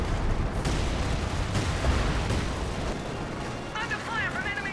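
Artillery fire in the Company of Heroes 2 strategy game: repeated heavy booms and rumbling blasts roll through a dense, noisy battlefield mix, some hits sharper and nearer than others.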